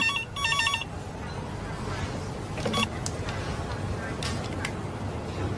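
A telephone rings unanswered in a tense drama scene inside a building, repeated electronic ring bursts sounding over a murky background rumble.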